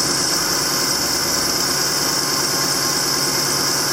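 An engine idles smoothly and steadily after an injector repair, giving a loud, even, continuous running drone with no stumbles.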